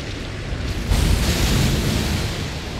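A sorcery spell bursts in Elden Ring Shadow of the Erdtree: a loud, broad rushing boom swells about a second in and rumbles on with noisy decay, no voices.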